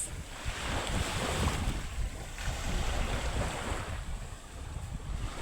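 Soft, continuous wash of sea waves at the Batangas shore with gentle swells rising and falling, mixed with a light breeze brushing the microphone.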